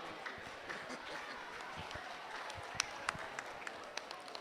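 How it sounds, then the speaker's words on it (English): A hall audience at a school quiz finale gives a round of applause, scattered clapping that builds into sharper, distinct claps toward the end, with background murmur under it. "Please, can we have a round of applause for"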